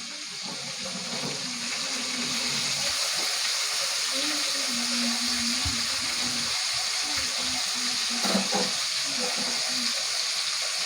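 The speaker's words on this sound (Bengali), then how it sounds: "এটা রোস্ট করব আমরা একটু হালকা ভেজে নিচ্ছি" Chicken pieces lightly frying in a pan for a chicken roast give a steady, even sizzle with a faint tonal murmur underneath throughout.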